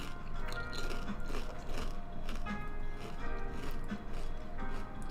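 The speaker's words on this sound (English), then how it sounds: "A little ASMR crunch." Close-up crunching of a snack being chewed, a rough rhythmic series of crisp bites and mastication that runs the whole time, fairly quiet and without talk.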